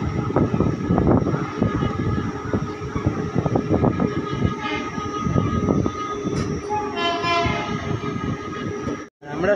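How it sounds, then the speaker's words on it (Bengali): Paharia Express train pulling out of Santragachi station, heard from on board: loud rumbling and clattering wheels with rhythmic rail knocks, metallic squeals and a brief horn-like tone in the background. "আর এখান থেকে ছেড়েও দিল ট্রেন"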